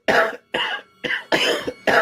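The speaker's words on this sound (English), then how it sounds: "When you hear someone cough, be afraid." Five harsh, loud coughs come one after another in a quick rhythm, each short burst separated by a brief gap, in a government COVID vaccine ad.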